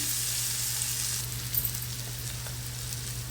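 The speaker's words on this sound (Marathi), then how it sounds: "खोबरं, लसूण, आलं आणि कोथिंबीर याचं जे वाटण तयार केलेलं आहे ते घालायचं आहे, आणि ते पण व्यवस्थित परतून घ्यायचं आहे" A paste of coconut, garlic, ginger and coriander stir-fried in a pan for a dry flat-bean vegetable dish, a steady close sizzle with a faint low hum and one brief stir partway through.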